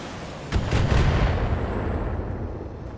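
Missiles slamming into a Scorpion mech in Battletech: a loud, sudden explosive impact followed by a quick cluster of further booms that trail off into a fading rumble.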